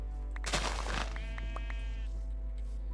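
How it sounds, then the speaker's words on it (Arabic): A black sheep in a video game gives a single clear bleat, near and prominent, over a quiet, steady game background. "خروف اسود."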